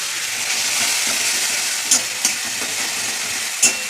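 Ginger paste and spices sautéing in hot oil give a steady, dense sizzle throughout, with a few sharp stirring scrapes and pops near the middle and end, close and alone without any voices.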